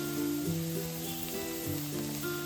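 Onion sautés in a pan with a pinch of turmeric for leftover-rice phodnicha bhaat: a continuous close sizzle and hiss of frying, heard under a steady tonal background hum that shifts in pitch.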